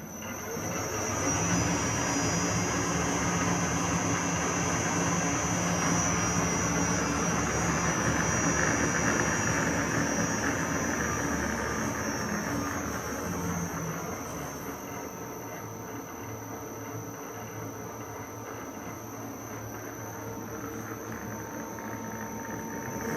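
A lathe motor driven through a VFD with a speed control pot runs as a steady, loud hum with a constant high-pitched whine, easing slightly quieter partway through and holding even without any speech.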